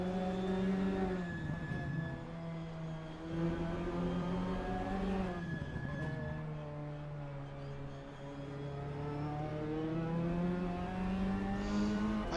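An Audi race car in the Assetto Corsa racing game gives a steady engine drone with a sustained whining transmission tone that slowly shifts in pitch, sounding continuous and moderately close.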